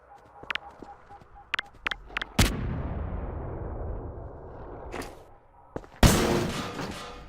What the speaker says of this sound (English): You can also trigger the explosions early with either the stun stick or AR2 energy balls